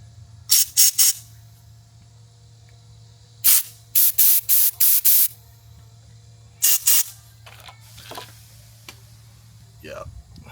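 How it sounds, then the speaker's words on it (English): Compressed air blasting through the orifices of a Toro mower part, several sharp hissing bursts in clusters over a low motor hum, close and loud, with a few faint murmurs between. "come back with some compressed air"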